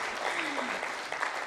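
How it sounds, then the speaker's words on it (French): An audience at an employment and entrepreneurship conference in Tunisia breaks into a short burst of dense, steady applause, with a voice faintly audible underneath. "Ça mérite des applaudissements, effectivement"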